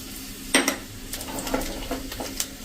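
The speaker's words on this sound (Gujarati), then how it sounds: "આને આપણે એકદમ સરસ સ્લો ફ્લેમ ઉપર સાંતળી લેશું આ બધો મસાલો" Masala with kasuri methi being sautéed as a tadka for dal over a slow flame: a soft continuous sizzle with a few sharp clinks of a spoon against the pan.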